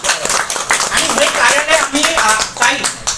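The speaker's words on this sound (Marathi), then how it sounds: "ताईच्यासाठी एक जोरदार टाळ्या होऊ द्या" An audience claps for Sulekha Kumbhare at a Nagpur digital media press office event, with a burst of close, loud clapping mixed with talking voices.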